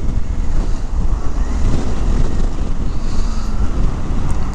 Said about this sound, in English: it is dumb windy